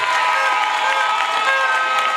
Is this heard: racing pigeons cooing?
no